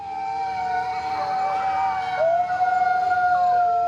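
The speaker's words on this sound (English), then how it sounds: "It almost sounded like a wolf pack howling nearby." Several wolf-like voices howl together near houses, long drawn-out wavering tones overlapping and gliding in pitch, loud and close, with a dip and rise midway and no talking.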